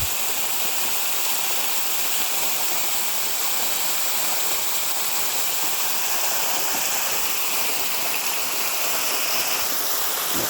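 A waterfall on Chamberlain Creek in Jackson State Forest pours with a steady, dense hiss and rush of falling water, loud and continuous with no voices.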